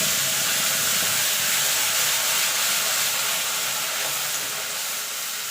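Ground onion paste dropped into hot oil tempered with a bay leaf and whole garam masala produces a loud, steady, hissing sizzle that eases off slightly toward the end.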